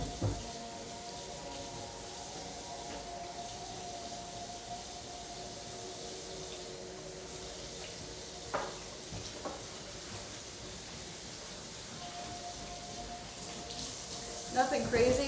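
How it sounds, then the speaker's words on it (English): Tap water running steadily into a kitchen sink while hands, a cutting board and a knife are washed, a continuous faint hiss with a few brief clatters near the end. "I'm actually gonna, real quick, wash off the cutting board and the knife."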